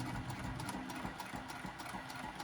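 A sewing machine runs in a quiet, steady mechanical whir while back tacking a seam on a lined zipper pouch.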